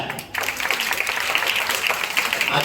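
Applause from an audience at a school admission festival, a dense continuous patter of many hands clapping, fairly loud and sustained, with faint voices mixed in.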